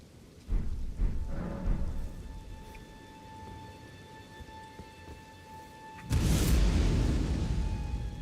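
Rain and thunder from a storm in the video game Haven: a couple of low rumbles up front, steady rain with a faint tonal hum, then a loud heavy crash of thunder and downpour near the end.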